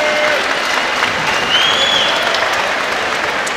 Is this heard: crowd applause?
yes